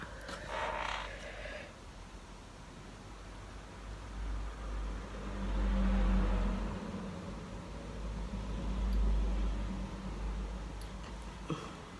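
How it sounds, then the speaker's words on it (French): Cars passing outside an open window, a steady low traffic rumble with swells as vehicles go by, loudest around the middle and again near the end, with no talk. "vous allez entendre les voitures à donf."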